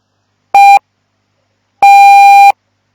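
Two clean electronic Morse code tones sound alone, a short dit followed after a pause by a longer dah, both loud and steady.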